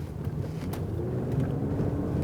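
Nissan Elgrand 2012 with a 3500cc engine braking on a test drive, a low rumbling cabin drone of road and tyre noise that swells slightly as the van slows, heard from inside without talk.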